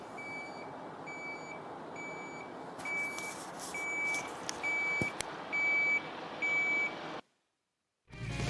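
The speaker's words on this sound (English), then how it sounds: "there was some truck that needed to deliver something" A delivery truck's reversing alarm beeps in an even, repeating rhythm over a rumbling engine, then cuts off abruptly before the engine noise returns.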